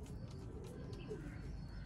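Sialkoti pigeons coo softly in a low, rolling murmur, faint and close, against a quiet background hum.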